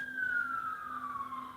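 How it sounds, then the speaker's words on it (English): An ambulance siren wails from some distance, its tone sliding slowly downward as the vehicle passes and moves away, steady and moderately faint against a low background rumble. "someone's leaving in an ambulance"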